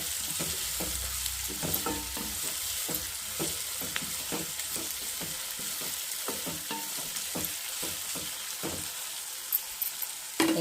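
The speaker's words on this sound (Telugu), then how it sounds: "వేగనిద్దామండి బాగా" Onions and spices sizzle steadily in hot oil for a tempering for stuffed brinjal curry, with a continuous frying hiss broken by frequent sharp scrapes and clicks of stirring, close and fairly loud.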